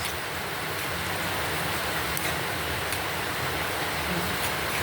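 Steady rain pouring down outside, a dense unbroken wash of hiss with occasional louder drips, constant and fairly close throughout.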